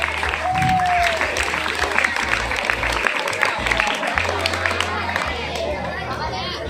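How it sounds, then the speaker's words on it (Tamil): Audience applause at a school annual day function, a dense sustained clapping that fills the hall under crowd chatter, with background music and a brief whistle-like tone. "அதுக்காக உங்கள் கரகோஷத்தை நான் எதிர்பார்க்குறேன்."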